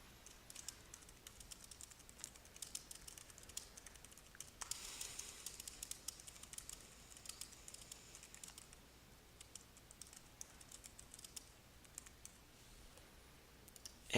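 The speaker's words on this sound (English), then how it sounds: "type in your note here" Quiet, rapid clicking of keys on a computer keyboard as a short note is typed, with irregular light taps continuing close by throughout and no talking.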